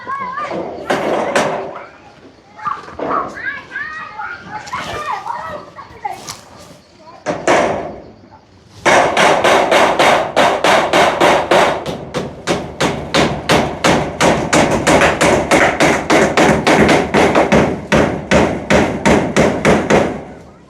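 Hammering during repair work: after scattered thumps and people talking, a long run of rapid, loud, evenly spaced hammer blows rings out close by, with speech over the first part.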